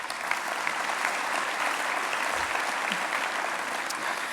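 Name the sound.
audience applause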